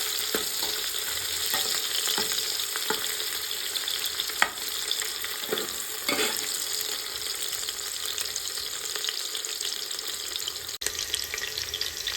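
Chopped onions frying in oil over low gas heat for masale bhat, a steady close sizzle with occasional stirring clicks and scrapes against the pan, no voices.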